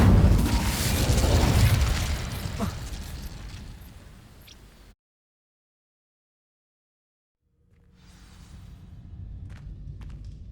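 Fire and disarming spells go off in the Hogwarts Legacy video game: a loud booming burst that fades out, a stretch of silence, then a softer rumbling blast with sharp crackles.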